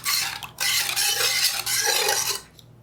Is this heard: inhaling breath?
no